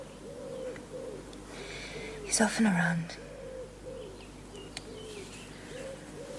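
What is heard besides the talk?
wood pigeon cooing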